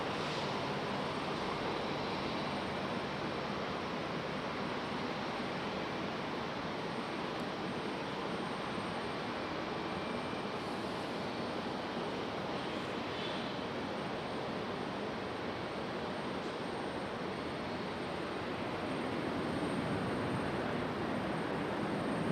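An American Airlines airliner from LAX passes in the distance at Raleigh-Durham airport on a stormy day, a steady broad engine roar that holds even and swells slightly near the end.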